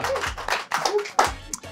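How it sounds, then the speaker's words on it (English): Brief round of hand claps from a small group at a British snack-tasting contest, a few quick claps mixed with voices talking and cheering over them. "A very UK clap"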